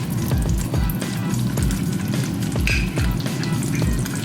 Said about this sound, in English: Just a quick fry all over. We're gonna fry it